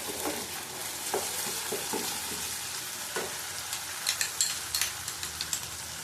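Chunks of rui and katla fish sauté in a spice paste with a soft, continuous sizzle and occasional stirring scrapes and small pops, heard close up with no talking.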